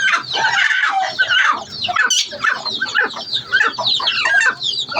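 Several hens clucking and squawking close by, a busy, irregular chorus of bursts with no talking.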